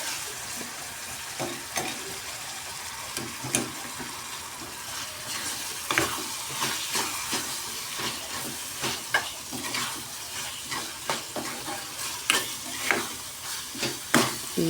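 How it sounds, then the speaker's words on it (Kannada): Bitter gourd frying in oil while being stirred, a continuous sizzle broken by frequent scraping spoon strokes that grow busier toward the end, close up with no talking. "ಈ ಥರ ನೋಡಿರಿ ಎಣ್ಣೆ ಒಳಗೆ ಫ್ರೈ ಮಾಡ್ಕೋಬೇಕು ರೀ"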